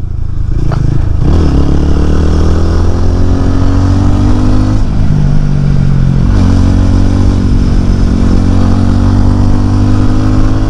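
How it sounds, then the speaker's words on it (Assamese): A motorcycle engine drones loudly and steadily while riding an empty road in Arunachal Pradesh, its exhaust rumbling with slight pitch shifts as the throttle changes, with no voices. "বাইকৰ এক্সজষ্টৰ মজা চাউণ্ড ওলাইছেচোন।"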